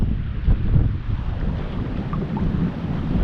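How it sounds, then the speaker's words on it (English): Steady gusting wind rushes and buffets a microphone out on the rough Ohio River during a kayak race, with a constant low roar and no voices. "We got windy conditions today."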